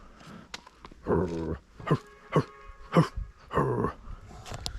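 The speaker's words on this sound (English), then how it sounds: "Look at this goofy dog." A playful dog at a family gathering in rural Sichuan gives a string of close, loud barks and whiny yelps in short bursts, with a few quieter huffs between them.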